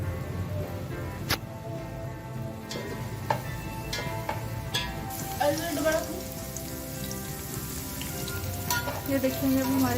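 Ginger, garlic and green chillies crackle and sizzle in hot oil in a pan as they are stirred until browned, dense popping spatter throughout with occasional sharp clicks of the spoon against the pan.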